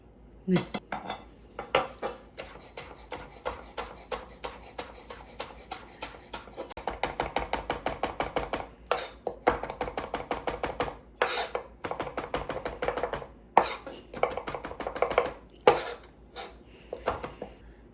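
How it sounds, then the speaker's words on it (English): A knife chopping cilantro on a board for guacamole, rapid close rhythmic taps that speed into dense bursts with short pauses, over a faint background and no talking. "having chopped my cilantro"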